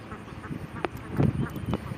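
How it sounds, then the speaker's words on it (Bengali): Domestic ducks feeding at a village duck farm, a few scattered quacks over a soft, steady background of gabbling and rustling. "আর এখানে পাতি হাঁস"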